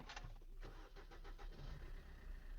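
A Maruti Suzuki Vitara Brezza diesel engine cranks with a quick series of starter pulses, then catches and settles into a steady close idle rumble, with no talking.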